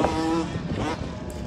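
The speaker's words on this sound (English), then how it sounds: "Hear the ripping of the banshees out there." Yamaha Banshee ATVs ripping through the Glamis sand dunes, a raspy two-stroke engine note rising and falling in the distance, steady and continuous under open outdoor air.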